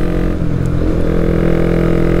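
A single-cylinder motorcycle engine pulling hard under acceleration on a winding road, a loud, steady, close-up drone with a constant throaty pulse and no talk over it.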